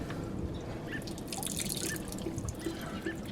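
Water drips from a Hayward pool multiport valve during a key cover replacement, a quick run of small close plinks and trickles with no talking.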